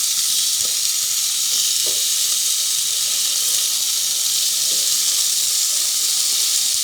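Chicken pieces for a pesto ciabatta sandwich, just flipped on a grill, sizzling in a loud, steady hiss with a few faint pops and no talk.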